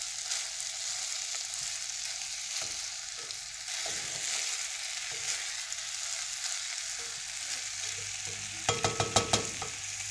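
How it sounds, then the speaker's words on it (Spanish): Rice sealing in hot chicken-flavored oil in a pan, a steady dense sizzle and crackle throughout, with a burst of stirring scrapes near the end. "Y lo que vamos a hacer es sellar un poco el arroz con el aceite que tiene también el sabor del pollo."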